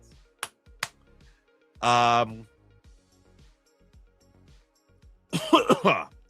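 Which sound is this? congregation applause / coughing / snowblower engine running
coughing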